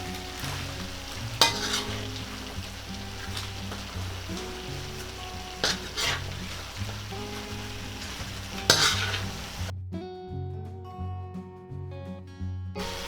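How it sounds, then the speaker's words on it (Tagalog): Carrots for fresh lumpia filling are stir-fried in a pan. A steady close sizzle runs under repeated scraping spatula strokes, with some metallic clanks, and ends in quieter crackling. "isusunod ko na po itong ating carrots. Ayan. Tapos haluin lang natin siya."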